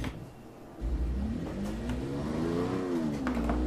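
A Ferrari Dino 246 GTS in the racing game Test Drive Unlimited 2 accelerating on a highway, its engine note rising and falling through revs, loud and continuous after a brief quieter start.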